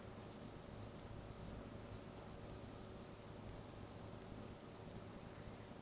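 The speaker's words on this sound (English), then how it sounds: "Now I just have to write down the answer." A pen or pencil scratches steadily on paper as a math answer is written down, a soft, continuous close-up scribbling that lasts several seconds with no speech over it.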